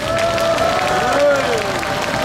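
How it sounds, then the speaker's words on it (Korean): A crowd claps steadily throughout, with a voice carrying over the applause, at an outdoor memorial rally for Park Chung-hee's 40th death anniversary. "관계자들에게 여러분 박수를 보내주십시오"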